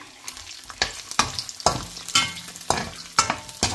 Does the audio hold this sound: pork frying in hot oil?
yes